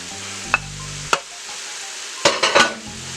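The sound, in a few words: ground beef browning and being chopped in pressure cooker pot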